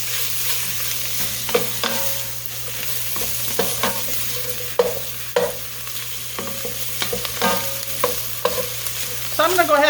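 Garlic, bay leaves and meat fry in hot oil in a pot for slow cooked collard greens, a steady close sizzle broken by repeated stirring scrapes and clacks, with no voices.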